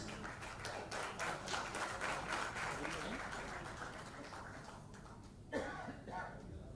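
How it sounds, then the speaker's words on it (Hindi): Faint audience applause at a Bhojpuri film music launch, a dense patter of many hands welcoming Raza Murad to the stage, tapering off with a louder knock or bump near the end and voices murmuring underneath. "Raza Murad जी के लिए जोरदार तालियां हो जाए"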